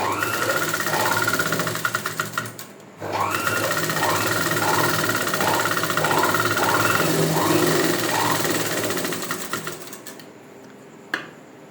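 A sewing machine runs steadily, stitching piping for a boutique-style round neckline, its rapid mechanical hum continuous and close, with a brief pause near three seconds and a stop just before the end.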